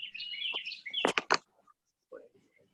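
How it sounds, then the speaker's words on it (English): Birds sing outdoors during a remote town board meeting, a bright warbling run of chirps near the start followed by a few sharp louder calls, with brief voice sounds after. "Ooh, the birds sound nice."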